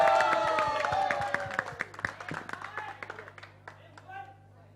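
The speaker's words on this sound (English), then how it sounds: "And how can we forget our coach, Mohit sir? Give him a big round of applause," Scattered clapping from an audience at a celebrity cricket league team launch, honouring coach Mohit. It is mixed with a loud voice and music, and the claps thin out and fade toward the end.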